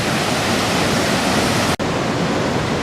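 River rapids rush in a loud, continuous roar of churning water, nearby and steady, broken only by a single very brief cut near the end.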